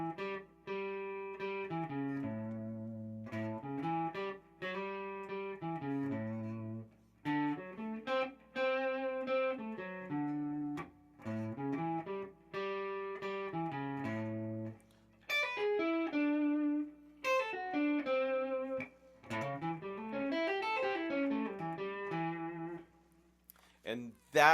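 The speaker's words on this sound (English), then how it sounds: "now we're going to play a full 6-string arpeggio using triplets." Electric guitar with effects plays a dominant blues study, running full six-string arpeggios in steady triplets that climb and fall across the neck, sustained and alone with no talking for about twenty-five seconds.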